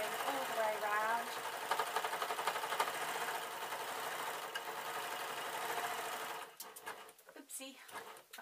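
A sewing machine runs steadily while stitching a replacement cover onto a Vax mop pad, a continuous close whirring hum with a voice talking over it before the motor stops near the end.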